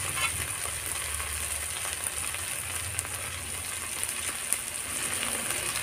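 A paste of ground cumin and chili frying in a pan with prawns and pointed gourd, a dense continuous sizzle with faint crackles and occasional stirring taps, steady and close with no voices.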